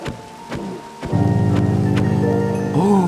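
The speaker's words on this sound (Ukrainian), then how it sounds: "Добре, дощ, це нормально, головне, щоб не гроза." Rain falls steadily in Minecraft, a continuous hiss with a few sharp knocks and sounds early on and a brief tonal sound near the end.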